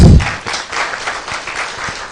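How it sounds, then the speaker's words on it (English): A hall audience applauds at a Kenyan national report launch event, a loud, dense wash of many hands clapping that swells briefly at the start and then holds steady without talk. "Another hand of applause"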